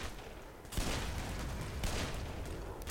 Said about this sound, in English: who else is shooting me with a machine gun?